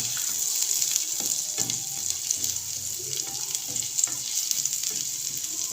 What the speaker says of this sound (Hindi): इसको हल्का सा हम फ्राई करेंगे ताकि लहसुन की स्मेल ख़त्म हो जाए।